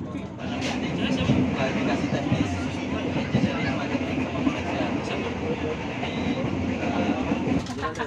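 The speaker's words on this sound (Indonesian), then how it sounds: "KA Bengawan kembali diberangkatkan dari stasiun Bekasi jam 6:28 menit" The KA Bengawan passenger train runs on the rails between Bekasi and Cikarang stations, a steady close rumble with rhythmic wheel clatter and a murmur of voices in the carriage.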